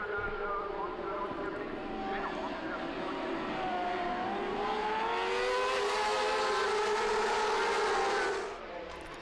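A pack of 600cc racing motorcycles screams past on the Albi circuit, with engines rising and falling in pitch as they pass, loud and sustained, and a commentator talking over them.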